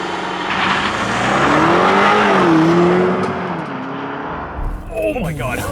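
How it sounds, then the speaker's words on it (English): 2024 BMW X6 M60i launching with launch control, a close, loud engine note rising through the gears with audible shift dips as it accelerates hard, before the engine falls away and excited voices break in at the end. "2024 BMW X6 M60i with launch control"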